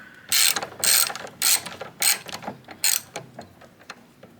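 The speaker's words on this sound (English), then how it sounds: "we're going to go ahead and loosen these bolts up here until they're loose enough to come out by hand" A ratchet loosening the bolts on a Chevy S10 blower motor, a series of quick metallic clicking bursts in uneven strokes, close and loud at first, then lighter and more scattered.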